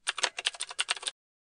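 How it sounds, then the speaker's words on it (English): Quick, close keystrokes clatter on a computer keyboard as a command is typed into a Linux terminal, a short burst of about a dozen taps with no speech. "In the Linux terminal, type in command."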